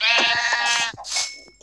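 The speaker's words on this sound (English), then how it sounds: "There's a sheep over there." Sheep in the Survival Craft video game, giving a single loud bleat up close followed by a shorter second call, with no talking.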